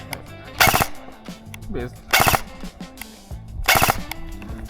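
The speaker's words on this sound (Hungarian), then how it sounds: "Nem, ez burst, nézem. 3-as lövés." An airsoft Kalashnikov replica with electronic trigger fires three sharp, loud three-round bursts, evenly spaced about a second and a half apart, with mechanical clicks and handling noise between them.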